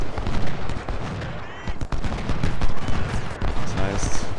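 Massed rifle volleys and crackling musket fire in the Civil War battle game Ultimate General: Civil War, a steady dense rattle of overlapping shots with occasional heavier thumps, continuous and fairly loud.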